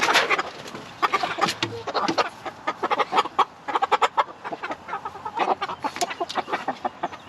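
A flock of meat chickens clucking steadily, with many short overlapping clucks and squawks at close range and no talking.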